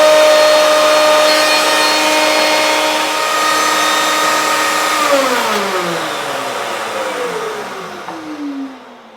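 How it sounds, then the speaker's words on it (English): Router cutting dados in a maple bookshelf side, a loud steady high whine that holds, then winds down toward the end, close and alone. "Clamp your rail down, and then routing it is essentially the same process."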